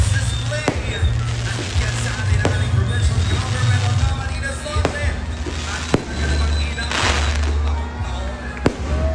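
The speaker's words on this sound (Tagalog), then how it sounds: "Fireworks." Repeated sharp firework bangs crack over a dense crackling wash, with excited voices talking and exclaiming throughout.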